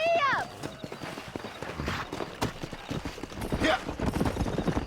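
Hooves clip-clop at a quick pace from a horse ridden in Red Dead Redemption, close and fairly loud, while someone speaks briefly over the riding and outdoor ambience.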